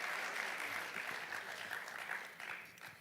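Audience applause after a speech at an investment conference in the Eastern Cape, a steady wash of many hands clapping, moderately distant and sustained throughout before tapering slightly at the end.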